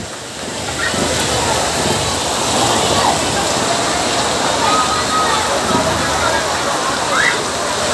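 Heavy rain roars in a thick, constant wash of noise, loud and close, with faint scattered sounds beneath the downpour.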